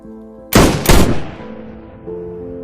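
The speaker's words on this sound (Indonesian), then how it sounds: "Dia menyuruh Sersan dan seorang prajurit untuk menembak kedua teman Carlos." Two loud, close gunshots in quick succession from a firing squad execution in a Spanish–Philippine war film, each a sharp blast followed by a ringing decay over a low sustained tone.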